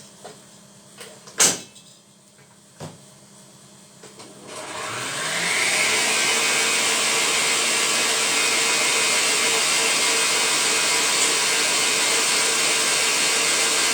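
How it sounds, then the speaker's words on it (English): Food processor whisking egg whites for a gluten-free meringue cake, starting after a few kitchen knocks and clicks, then a loud steady whirring drone that runs continuously to the end, with no talking. "I'm going to whisk them up in the food processor"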